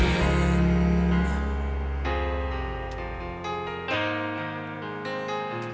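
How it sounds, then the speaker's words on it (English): A dense country song mix plays its breakdown section in Cubase, full band sound with bass and keyboards, steady and loud throughout with shifting chord changes and no voices. "we got a country song here, a lot of dense mix going on, but it's got a breakdown section in it"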